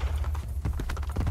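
Horse hooves clip-clop in a quick galloping rhythm during a ride in Assassin's Creed: Brotherhood, the beats close and steady over a low rumbling game soundscape.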